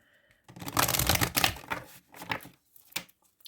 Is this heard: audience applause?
no